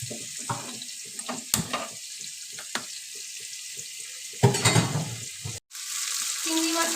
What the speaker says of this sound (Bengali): আমি নুন হলুদ মাখানো চিংড়ি মাছটা দিয়ে দিলাম। ঘিটা হালকা করে আমি ভেজে নেব।